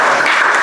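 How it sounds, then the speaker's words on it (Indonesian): Brief burst of classroom applause for a student, dense and steady clapping from a group, loud and close, lasting under a second. "beri aplaus untuk Aulia"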